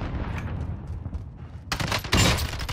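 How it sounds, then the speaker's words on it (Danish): Gunfire in the shooter game Warzone: a dense burst of loud, close shots following a quieter stretch of background game noise. "Jeg bliver skudt igen, mand."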